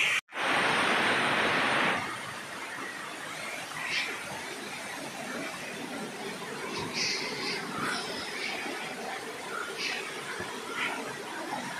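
A waterfall pours at the Harishankar temple in Odisha, a loud broadband roar bursting in at first, then settling into a steady continuous rush, with faint voices now and then.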